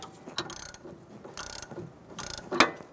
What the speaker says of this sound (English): And we're gonna tighten down our sway bar link end on this side.